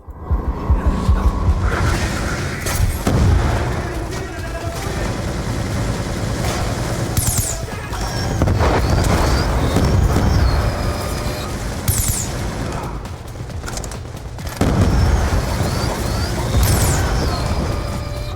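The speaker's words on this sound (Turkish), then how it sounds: "Bombalar güzelmiş lan baya." Explosions in Call of Duty Black Ops II burst out repeatedly over rumbling battle noise, with several sharp booms and crashes spaced across the stretch.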